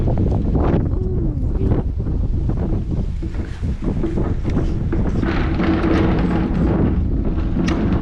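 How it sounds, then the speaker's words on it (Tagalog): Heavy wind batters the microphone in a continuous loud roar, with faint rustling and gusting beneath it. "Yung hangin kasi grabe."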